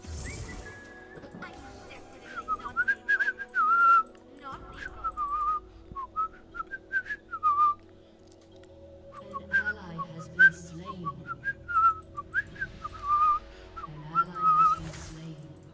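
A person whistles a quick, warbling melody of short bright phrases with gaps between them, close and clear over faint background noise and occasional low voices.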